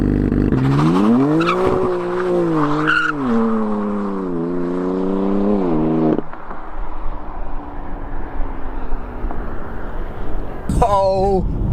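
A new BMW M3 drifts with its engine revving hard in wavering surges, then its tires let out a long squeal that fades to a rough rumble. A final sharp burst comes near the end, and someone talks throughout.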